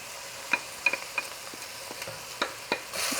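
Lentil and lamb braise sautéing with spices in a pot, a quiet low sizzle broken by sharp spoon clicks and scrapes against the pan at irregular intervals, close by and without talk.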